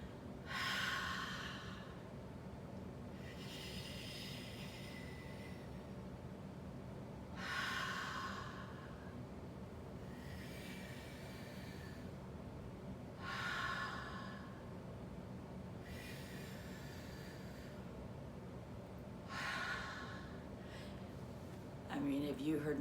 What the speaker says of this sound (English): breathe out through my mouth